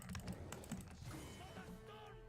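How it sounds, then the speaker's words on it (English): Quiet, close clicking of a computer keyboard being mashed during a Heroes of the Storm gaming session, a soft flurry of keystrokes with no talk. "you guys probably can hear my mashing of the keyboard."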